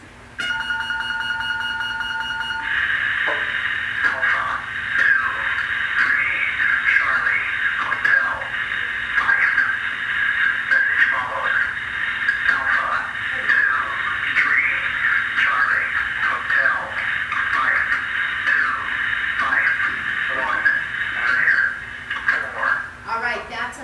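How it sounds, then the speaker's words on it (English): Titan II missile silo message box signal, the wobbles: a loud, sustained warbling electronic tone after a brief stepped beep, running continuously and close for over twenty seconds without talk. "Strategic Air Command then would send a message over these message boxes. The crew called them the wobbles"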